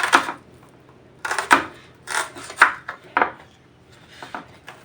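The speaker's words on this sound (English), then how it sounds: "we're going to cut the onions first" A knife chops onions on a board in a series of sharp, close knocks, several quick cuts in irregular clusters with short pauses between them and a quieter final few.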